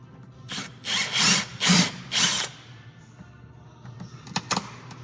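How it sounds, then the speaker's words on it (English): A socket wrench works a bolt on an off-road vehicle's dry sump system, giving four strong rasping ratchet bursts in a row followed by quieter scattered clicks. "So now my socket will fit up in there to bolt that, and the bolt will be protected."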